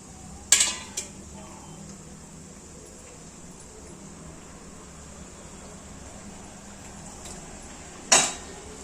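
Chicken goes into a pan of fried masala and is stirred, giving a couple of sharp metallic clanks at the start and end over a faint, steady background hiss.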